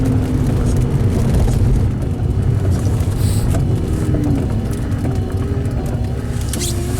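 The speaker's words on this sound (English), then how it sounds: "I want to take another drive down Broadway and just do one hard acceleration" A 1990 Porsche 911 964 Carrera 2 Targa Tiptronic accelerates hard down a street, with a loud, steady engine roar heard from inside the car and a slowly rising pitch, mixed with road noise.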